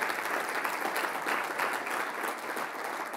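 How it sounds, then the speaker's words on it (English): Audience applause at a Wichita housing forecast presentation, a steady, dense wash of clapping from a large room for the sponsors, holding even throughout without voices. "Can we give them all a round of applause?"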